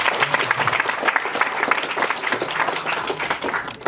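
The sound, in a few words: audience applauding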